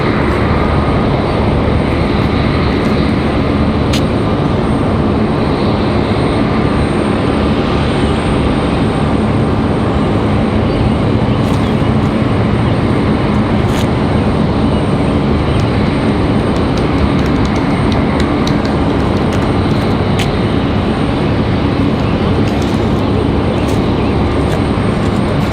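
A Boeing 777 departs Raleigh Durham airport, its jet engines producing a loud, steady, broadband roar that holds throughout with no voices.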